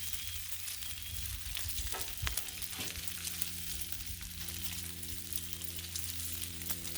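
Bacon frying on a griddle until crisp gives a soft, steady, even sizzle with small pops, heard alone and fairly quiet throughout.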